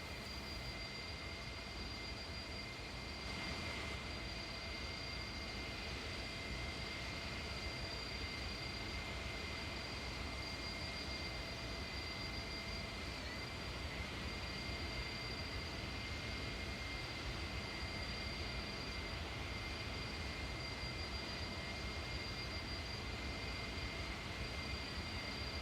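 Steady, unbroken engine drone inside an Airbus A300-600ST Beluga cruising in the X-Plane 12 flight simulator, a constant mid-level hum with faint high tonal whines and no voices throughout.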